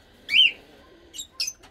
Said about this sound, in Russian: Люблю я своих птиц